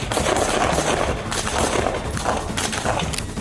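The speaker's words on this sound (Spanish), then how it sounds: "Los disparos estallaron, ecos de la supervivencia y el deber chocando." Rapid bursts of gunfire during a police chase in a parking lot, a dense, continuous crackle of shots that fills the whole stretch at close range with no talking.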